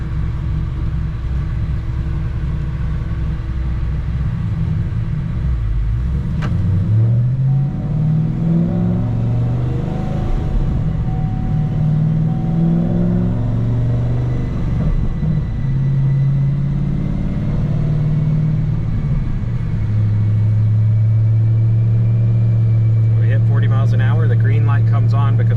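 A car drives on a Dynocom chassis dynamometer, its engine rumbling loud and steady throughout, with the pitch climbing and falling as throttle is applied and a long held drone near the end, while a person talks over it.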